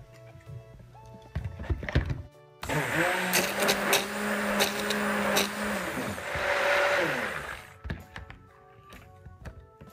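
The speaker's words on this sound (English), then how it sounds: "I'll give this a little blend with the stick blender" A stick blender whirs steadily for several seconds, mixing soap with lye and coconut milk, its motor pitch sliding slightly, with short clattering and tapping before and after.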